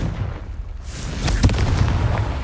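The Confringo blasting spell bursts in Hogwarts Legacy, a deep rumbling explosion with a sharp crack in the middle, loud and close over a low, steady game background.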